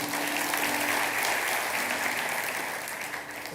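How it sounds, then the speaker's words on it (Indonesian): Congregation applauding during a church sermon, a dense, continuous wash of clapping that holds steady and fades slightly toward the end. "Yang percaya kasih tepuk tangan untuk Tuhan."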